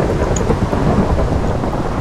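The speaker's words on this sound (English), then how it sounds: "Dude, what's up with this lightning?" Thunder from a lightning strike in a multiplayer factions video game rumbles continuously and loudly for two seconds, a dense low roar with a rain-like hiss and no talk.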